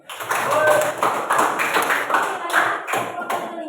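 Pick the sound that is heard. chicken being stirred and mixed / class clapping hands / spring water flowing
class clapping hands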